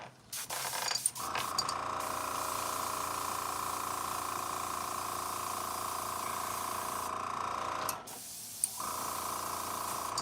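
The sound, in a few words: aerosol spray paint can spraying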